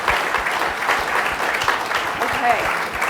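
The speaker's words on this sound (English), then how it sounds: "round of applause" Steady applause from an audience at an evening talk, closing a question-and-answer session, a dense wash of clapping filling the room throughout, with a voice briefly heard over it.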